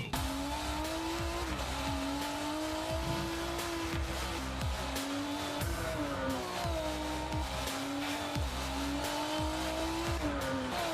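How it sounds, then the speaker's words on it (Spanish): A futuristic car's engine revs and roars continuously in a game trailer, with rising and falling pitch sweeps, tire squeals and a racing-style drone, loud and close with no talk over it. "Ese sí es el carro más futurista que he visto."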